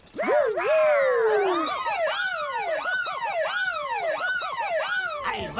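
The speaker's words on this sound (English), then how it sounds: "Help us sound the siren" A cartoon siren wails, rising and falling repeatedly, loud and close, with a warbling quality throughout.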